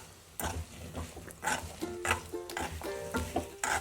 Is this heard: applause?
no